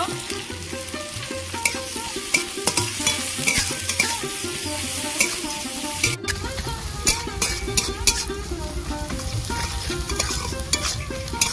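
Onions and green chillies fry in a pan while being stirred for a fish roe kofta curry, loud steady sizzling broken by frequent scraping and clinking strokes of a spatula, no talking.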